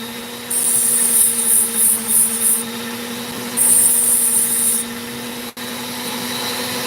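A small rotary cutting tool whines steadily with high-pitched bursts of grinding as it removes a sliver of sand from an opal, loud and close, with a brief dip near the end.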